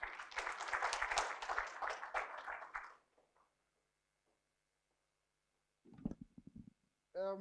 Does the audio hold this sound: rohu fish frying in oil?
no